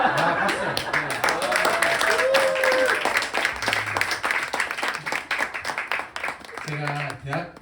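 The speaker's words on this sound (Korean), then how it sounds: "박수." Applause from a church winter retreat audience after a child introduces himself, dense clapping filling the room with voices and chatter mixed in, fading toward the end.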